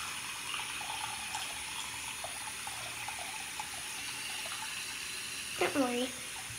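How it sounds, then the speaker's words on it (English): Tap water running into a sink, a steady close hiss of flowing water throughout, with a brief voice near the end. "Water's still filling."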